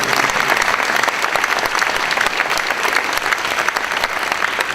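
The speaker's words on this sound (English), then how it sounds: "Can we have a round of applause?" An audience at a 2014 brand show gives sustained, dense applause after a list of honorees is read. The clapping is loud and steady from start to finish, with no pause.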